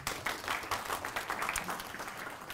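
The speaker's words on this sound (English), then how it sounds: "A round of applause for Professor Rory Ryan." A university audience at a University of Johannesburg event applauds a professor being introduced as a panelist: a brief, fairly faint burst of scattered clapping.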